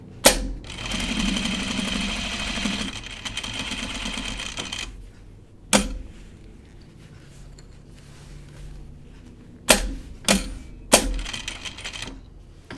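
A sewing machine back stitching a jacket pocket whirs in one long close run, then goes quiet apart from sharp clicks and short bursts of stitching near the end.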